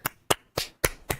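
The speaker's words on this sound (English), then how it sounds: "Your clapping is reminding me of someone walking on a bunch of putty." Five sharp hand claps in an even, quick rhythm, close and loud with short gaps between them.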